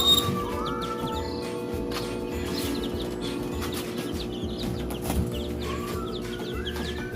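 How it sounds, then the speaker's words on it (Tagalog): Newly hatched chicks in a Philippine backyard, peeping continuously in a busy high-pitched chorus close up, with soft scratching and rustling beneath and no voices. "Ito yung aking mga bagong pisang sisiw."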